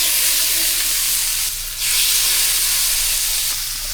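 Pheasant breast fries in butter and olive oil in a hot pan, giving a loud, steady hiss and sizzle up close that dips briefly and then surges back.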